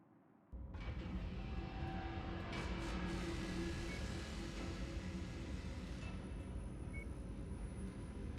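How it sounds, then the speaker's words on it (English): Pulse lasers firing in MechWarrior 5, a loud, dense whirring drone with a throbbing, helicopter-like pulse that kicks in abruptly after a short quiet start and holds steady to the end. "Keep hearing a helicopter and I'm looking around in circles like an idiot. Those are probably my pulse lasers."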